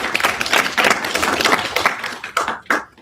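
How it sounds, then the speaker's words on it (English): An audience at a literary talk gives a round of applause for a family. Dense clapping fills the room, then thins to a few scattered claps toward the end. "Can we please give the Jacobsons a round of applause?"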